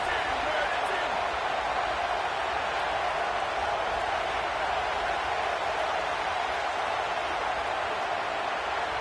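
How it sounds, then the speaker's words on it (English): A dense, steady roar of a large stadium crowd cheering at an Oklahoma football game fills the space, continuous and loud without a break. "Listen to this crowd just shaking the girders of this place, trying to help their defense."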